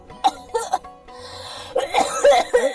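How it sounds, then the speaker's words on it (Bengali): An elderly woman coughs repeatedly in loud, close, rough bursts, with short throat-clearing sounds and a little voice between the fits. "তোমার কাশি যে বড্ড বেরিয়েছে দেখছি"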